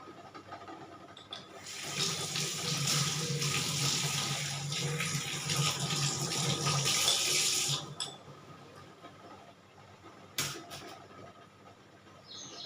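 A kitchen tap pours water while vegetables are washed, a steady close rush lasting several seconds before it shuts off, followed by a sharp clatter and quiet room tone.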